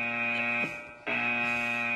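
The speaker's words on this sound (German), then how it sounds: "Och, nö, nicht schon wieder ein Alarm." A loud, steady electronic alarm buzzes with a harsh tonal drone, cutting out briefly for under half a second before resuming at full strength.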